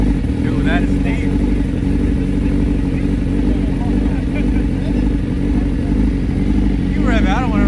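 A sport motorcycle engine idles at a bike meet, a deep steady rumble close by while people chat over it and short bursts of other voices cut in.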